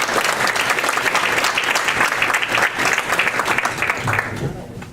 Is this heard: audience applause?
yes